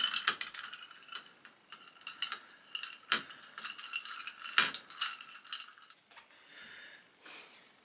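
A Scottish Long Island iced tea made with Scotch and lemon juice is stirred in a glass, ice and spoon giving bright clinking rattles in irregular bursts, close and clear, with no one talking.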